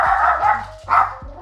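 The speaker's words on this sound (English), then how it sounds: "we live next to a very yappy dog, so every time the yappy dog yaps, Hero also loses his shit." A neighbour's small, yappy dog barks sharply several times in quick succession, loud and close, with no voices over it.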